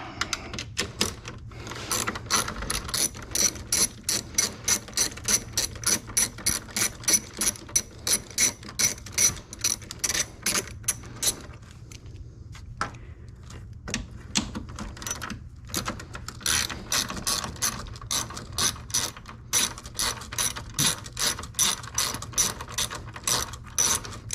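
A ratchet loosens the tow-mirror bolts on a 1999–2007 GMC Sierra or Chevrolet Silverado pickup, with rapid, steady pawl clicking close up in repeated bursts and a short pause midway.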